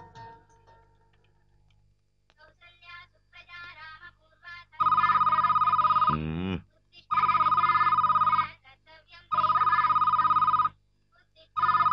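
An indoor telephone rings in three loud, sustained bursts separated by short pauses, preceded by quieter talk and faint ticking.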